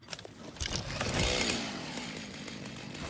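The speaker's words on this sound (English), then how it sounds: "we're going to need our chainsaw" A chainsaw in Satisfactory revs up and holds a loud buzzing whine for a few seconds while cutting, with scattered small rattles underneath.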